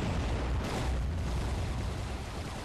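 A missile explosion in the underwater video game Aquanox, heard as a deep, rumbling blast that rolls on and slowly settles over a couple of seconds, with no one talking.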